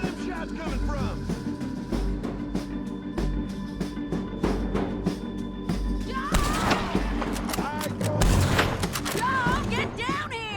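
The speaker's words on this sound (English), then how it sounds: "Where them shots coming from?" Gunshots ring out in a Red Dead Redemption 2 epilogue shootout, a scattered run of sharp cracks and thuds that grows denser near the end, with shouting voices mixed in throughout.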